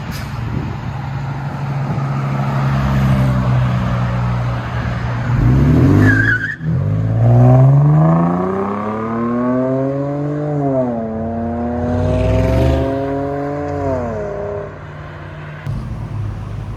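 A 1998-2005 Lexus GS300 3.0L inline-six running Magnaflow mid mufflers and a rear muffler delete idles with a deep, close rumble, then pulls away as the revs climb, dip and climb again through several rising sweeps. No talking.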